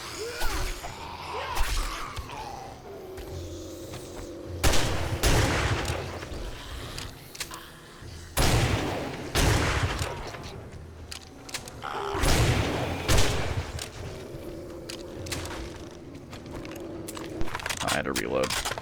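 Gunfire against zombies during a Blood Moon horde night in 7 Days To Die: several loud, broadband shot bursts spaced a few seconds apart, with tonal game sounds and a voice talking between them.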